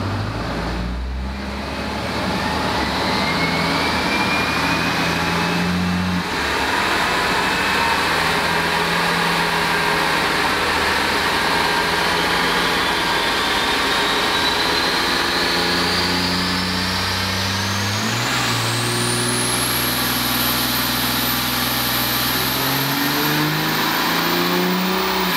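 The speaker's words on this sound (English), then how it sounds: "We are back on the dyno with your truck." A 2019 Ram HD diesel pickup with head studs and a 10mm CP4.2 pump runs hard on a dyno, a loud sustained engine roar climbing steadily in pitch over about twenty-five seconds without talk.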